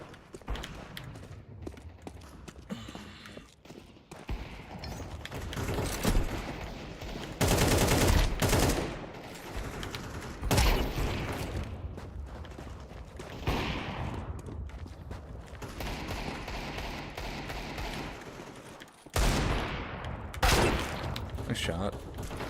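Bursts of automatic gunfire in a competitive shooter game come in several loud stretches of sustained spraying, with quieter gaps in between and talking running underneath.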